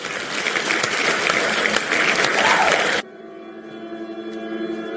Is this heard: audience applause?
yes